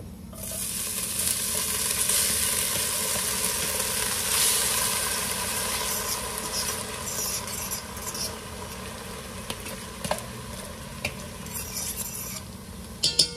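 Creole seasoning sizzles steadily in warm olive oil on a stove, a continuous bright frying hiss with occasional scrapes and clinks of stirring near the end.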